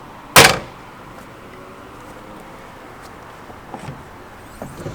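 Small swing door on a 2020 Sea Ray SLX 350 boat, one sharp close clack near the start followed by quiet ambience and a few faint knocks.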